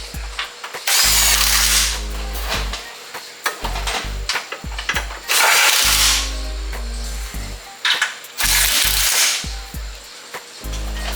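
A power tool runs in several loud bursts, each a second or two long with short pauses between, as it drives 17mm subframe bolts on a 2008 Honda Civic Si during a clutch job. The tool is close and there is no talk.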